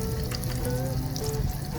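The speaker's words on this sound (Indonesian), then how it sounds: "Ini ikan file supaya anak-anak kecil lebih gampang ya. Ya, ini gorengnya lebih gampang." Mahi-mahi fish fillet sizzles steadily in hot oil outdoors, a dense crackling fry that holds at moderate loudness throughout with no talk.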